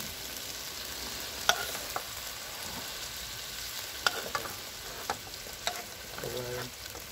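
Meat fries in a pan for a home-cooked lunch, a continuous crackling sizzle with a few sharp utensil clicks, a short voice faintly audible near the end.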